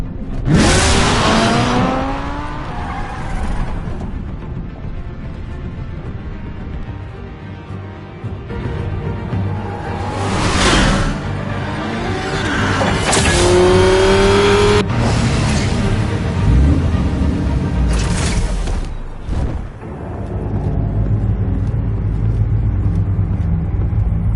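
A car engine in a Batman video game revving and accelerating hard, with repeated surging roars and whining pitch sweeps that rise and fall, loud and close throughout.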